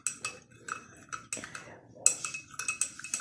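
Small spoon clinking against a glass or bowl while stirring honey, a run of light metallic taps in irregular bursts, near and fairly quiet.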